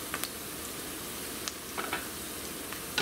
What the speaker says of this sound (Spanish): dejamos aquí a que se fría la cebolla